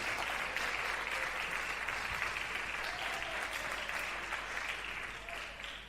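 A church congregation claps together in a steady, even round of applause for the Lord, sustained and fairly quiet throughout, tapering slightly toward the end.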